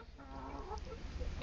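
A hen clucking softly in a short series of low, throaty notes, fairly faint and close, with a steady low rumble of background noise underneath.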